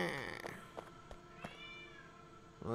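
A cat meows several times in quick succession, close and fairly clear, with short bright cries over a quiet indoor background.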